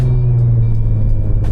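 Audi with a decent aftermarket exhaust and its valves open, idling or cruising as a steady, loud, deep low drone close by, with a faint brief rise near the end.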